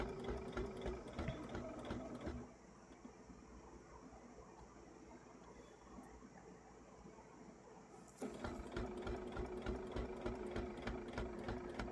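A sewing machine stitches a seam on a quilt with a fast, rhythmic mechanical chatter, stopping for a few seconds in the middle before running again, fairly quiet and close.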